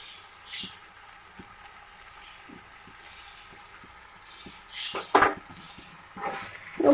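Vegetables fry with spices in a pan, a soft, low sizzle with scattered light ticks and a few louder stirring scrapes near the end, no talking.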